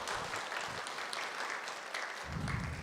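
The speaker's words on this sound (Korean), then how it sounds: "하나님께 영광의 박수를 올립시다" A church congregation at a Sunday afternoon praise service claps in a dense, even wash of applause that holds steady for a few seconds, fairly distant, with no voices over it.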